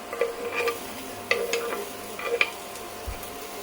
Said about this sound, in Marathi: आता आपण यात घालून घेऊया उभा चिरून घेतलेला कांदा.